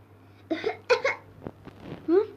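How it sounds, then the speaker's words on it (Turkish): A few short, raspy coughs and throat sounds from a young voice, spaced irregularly over a couple of seconds with near silence between. "Kardeşim öksürüyor."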